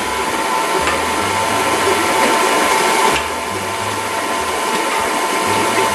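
An electric stand mixer running on low speed beats granulated sugar into fat for a cake batter, giving a loud, steady mechanical whir with a faint rhythmic grinding throughout and no talking.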